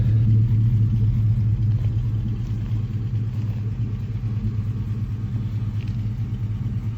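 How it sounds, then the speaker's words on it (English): A 1968 GMC farm truck fitted with a 5.3 LS V8 idles close by while misfiring on seven cylinders, its low steady rumble broken by a subtle uneven stumble, with no talking. "You can hear a little miss because it's only running on 7 cylinders right now"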